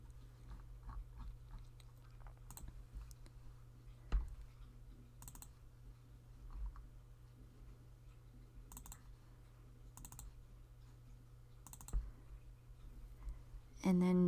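Faint, sparse mouse clicks, some in quick double pairs, tap over a low steady computer hum in a quiet room, with a louder click right at the end.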